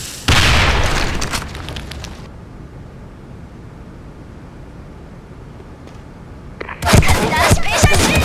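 A video-game grenade goes off with a sudden loud blast at the start, fading into a low lingering rumble before another burst of loud noise near the end.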